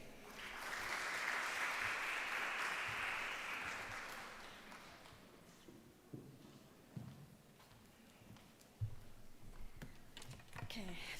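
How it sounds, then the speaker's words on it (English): A conference audience at a university learning and technology conference gives a round of applause, a fairly faint swell of clapping that peaks early and dies away into scattered taps and quiet room noise. "Please give a warm round of applause for Dr. Engineer Basma Al-Zain."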